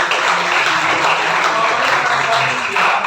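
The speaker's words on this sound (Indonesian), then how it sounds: "Oke, tepuk tangan tuh Sofi." A classroom of students claps for a classmate named Sofi, a steady dense patter of many hands at close range filling the room without pause.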